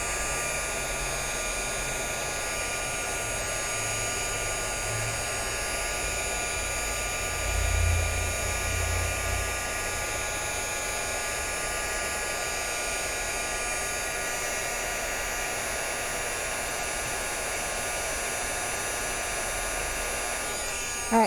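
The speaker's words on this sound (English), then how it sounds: "another way to make sure it's all on there, just heat it from the top a little bit" A heat tool blows a steady, loud whirring hiss while melting embossing powder on paper, running continuously the whole time with a few faint low thumps beneath it.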